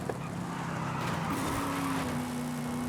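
A stock 2014 HSV GEN-F GTS in Forza Horizon, its engine holding a steady high drone in top gear with a faint rising tone, heard at speed and unbroken by speech.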